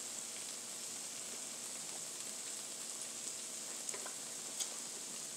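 Birria chicken frying on a flattop griddle, a steady dense sizzle and crackle heard close up and continuous throughout, with a few sharper pops and no talking.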